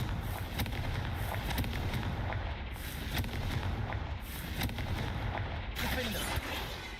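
Confringo fire spell blasts in Hogwarts Legacy, a run of repeated booming bursts over continuous battle noise, with short gaps between the blasts.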